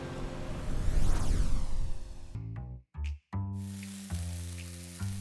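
Loud, hissing sizzle of food frying in a hot wok in a cafe kitchen, briefly cutting out, then returning with a low rhythmic rumble beneath.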